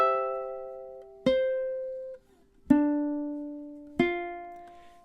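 Measure 4 of a song played slowly on ukulele: four plucked notes or chords ring out one after another, each struck cleanly and left to decay, with a brief gap before the second pair.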